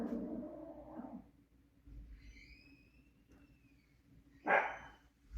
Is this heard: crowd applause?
no